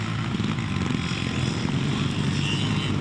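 Yamaha four-stroke trials motorcycle engine at a muddy twinshock event in Scotland, a steady buzzing drone heard from a distance with crowd and outdoor noise around it.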